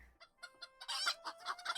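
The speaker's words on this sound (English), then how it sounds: "I'll bring along my scrapper chicken pet, Cryspea Jr." A pet scrapper chicken in a video game clucking in a quick run of short, bright, rhythmic clucks that build toward a louder burst, clear and close with no talk over it.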